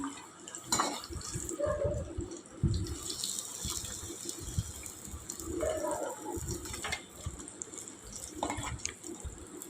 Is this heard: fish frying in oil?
yes